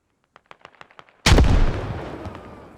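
A grenade detonates in the Squad military shooter: a string of faint, quick clicks and taps gives way to a sudden loud, close blast whose rumbling roar decays slowly over the following second and a half.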